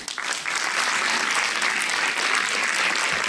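An audience at a Jewish film festival premiere night applauds in a sustained, dense wash of clapping that begins abruptly and continues steadily at close range.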